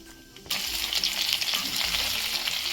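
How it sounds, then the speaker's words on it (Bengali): Chopped onions hit hot oil in a wok, bursting into a loud, bright sizzle that starts suddenly after a short quiet moment and carries on steadily, crackling up close. "কড়াইতে অল্প তেল দিয়ে গরম করে নিয়েছি এখন দিয়ে দিচ্ছি কেটে রাখা পেঁয়াজ"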